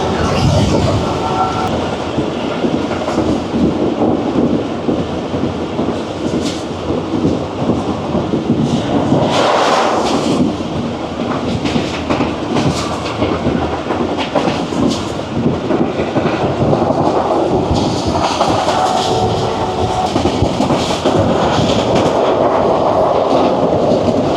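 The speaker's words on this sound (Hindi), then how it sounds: "तूफानी रफ्तार से दौड़ती हुई जा रही है जाफर एक्सप्रेस लाहौर की तरफ।" Jaffar Express passenger train racing at high speed toward Lahore across the Punjab plains, a loud continuous rumble and roar of wheels on rails with rattling carriages, steady throughout.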